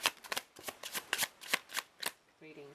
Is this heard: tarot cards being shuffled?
yes